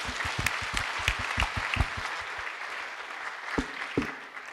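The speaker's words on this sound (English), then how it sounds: "Clap for yourself." A standing audience at an agroecology conference in Eastern Africa claps for themselves, a burst of many hands applauding together that thins out to a few scattered claps.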